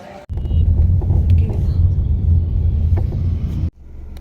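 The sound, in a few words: cars passing on road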